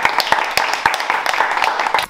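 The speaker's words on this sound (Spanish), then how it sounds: "Aplauso." Several people clap together during a casual home vlog, a quick, uneven patter of distinct hand claps at close range, loud and bright, running continuously for a couple of seconds.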